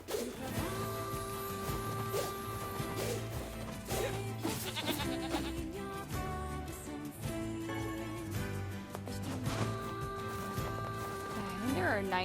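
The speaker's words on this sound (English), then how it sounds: "There are 19 sheep on the field." Sheep bleat in a field in the video game NieR Replicant ver., with several bleats rising over game music and effects while someone talks through them.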